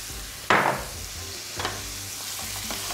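Mushrooms salted and frying in a pan give a steady soft sizzle, with a sharp stirring scrape near the start and lighter stirring clinks later, close by with no talking.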